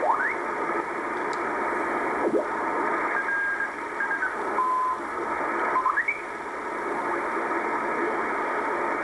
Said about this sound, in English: these are amateur radio operators that are operating in Morse Code